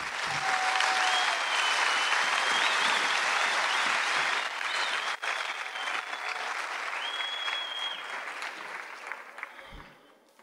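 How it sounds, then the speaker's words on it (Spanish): Audience at a university conference applauding the rector and education directors: sustained, even crowd clapping filling the room, tapering off near the end, with faint whistle-like tones above. "Un aplauso, por favor."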